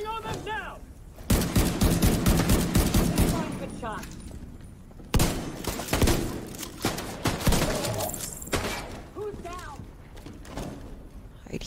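Rapid automatic gunfire in the video game The Division 2, with loud bursts of shots broken by short pauses and people talking over the firefight.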